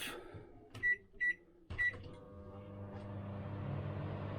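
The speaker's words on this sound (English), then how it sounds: "So we can run the microwave." Microwave oven running off an inverter inside a caravan, with three short beeps followed by a low steady hum and rumble that builds gradually as the oven runs.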